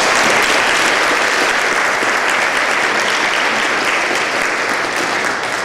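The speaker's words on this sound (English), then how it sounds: "please give Mr. Burley a round of applause for doing that" Audience at a 7th and 8th grade school winter concert applauding a teacher, loud continuous clapping from many hands throughout, dense and even with no pause.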